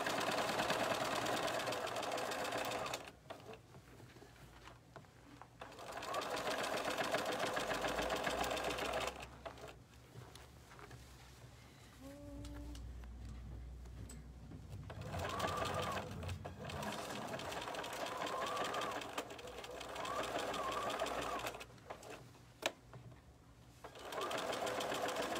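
Sewing machine stitching fabric in repeated runs of rapid mechanical whirring, separated by brief pauses, close and clear with no talking.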